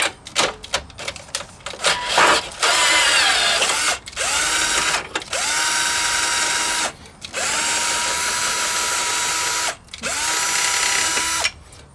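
Power drill or impact driver loosening the corroded bolts on a Tesla 12V battery mount, with rapid clicks first, then four long whirring bursts separated by short pauses, loud and close with no talking.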